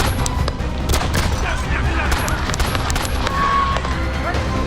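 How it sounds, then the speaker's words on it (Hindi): Gunfire at Donald Trump's election rally in the United States comes as a rapid series of sharp cracking shots over crowd noise and commotion. "अमेरिका में चुनावी रैली के दौरान डोनाल्ड ट्रंप पर गोली चल गई।"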